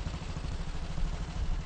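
An old BSA motorcycle engine powering a becak motor in Siantar putters with a low, steady, pulsing thump, brief and fairly quiet.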